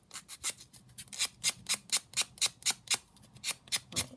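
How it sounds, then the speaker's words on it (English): Rhythmic rasping strokes of a file evening out an uneven edge, about a dozen steady back-and-forth scrapes close up, each a bright gritty burst with short gaps between. "So I will try and file it slightly straighter rather than cut it."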